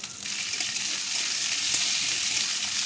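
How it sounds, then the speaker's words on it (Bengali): Onions and potatoes fry in oil in a kadai for an okra and potato curry, giving a continuous close sizzle that holds steady and swells a little, with no one talking. "পেঁয়াজটা প্রায় ভাজা হয়ে গেছে, এর মধ্যে আমি আলুগুলো দিয়ে দেবো।"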